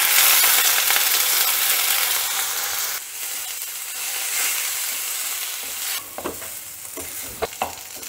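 Rice tossed and frying in a pan with browned onion for bhuga rice, a steady close sizzle with scraping stirs and a few sharp clinks near the end, no talking.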